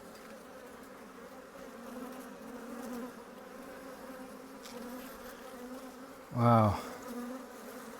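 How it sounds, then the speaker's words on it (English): Honey bees swarm around an open, packed hive during an inspection, a steady close-range buzzing hum that fills the whole clip; one person gives a brief exclamation near the end. "They're definitely buzzing me a little bit, which is alright."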